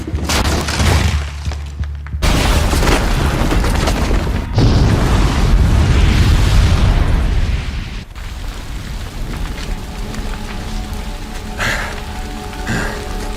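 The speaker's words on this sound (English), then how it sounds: "the booby trap on the bomb downstairs is gonna get set off" A bomb booby trap detonates in Horizon Zero Dawn, loud broadband blasts and roaring rumble dominating the first eight seconds before the blast fades into lower, tonal in-game ambience.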